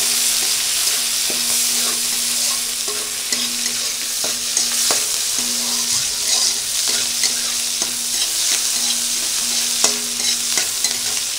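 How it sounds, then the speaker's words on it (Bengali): Chopped onion and garlic cloves sizzle loudly in hot oil with cumin seeds for a Bengali rui fish kalia, under constant close stirring with a spatula scraping the pan, and no one speaking. "এইবার দিয়ে দেব কিছু কুচানো পেঁয়াজ আর দুটো রসুনের কোয়া"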